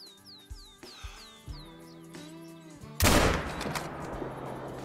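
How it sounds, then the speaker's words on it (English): A single loud rifle shot from a .243 rings out in theHunter: Call of the Wild, a sharp blast that follows a stretch of quiet bird calls and soft footsteps, with a long rumbling tail. "we have the 243 and we can definitely take that shot"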